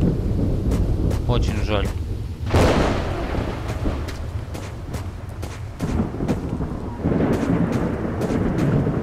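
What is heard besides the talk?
thunder and rain in S.T.A.L.K.E.R. Lost Alpha video game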